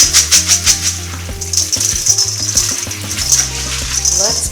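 Dry baby lima beans pour into a 5.5-quart Dutch oven with a quick patter of small hard hits, then scattered clicks and rattles as the beans settle, loud and close.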